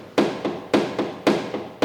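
A hammer taps a small dent out of a car panel in quick, evenly spaced strikes, about seven sharp metallic-woody knocks alternating loud and softer, close up with no speech.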